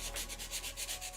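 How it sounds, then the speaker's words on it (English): Small costume glove piece for a Mandalorian build being hand sanded, a steady rhythmic scrubbing with repeated strokes, close and fairly quiet with no voices. "but now it's just a lot of hand sanding"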